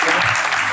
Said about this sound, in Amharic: ስለሱ ማጨብጨብ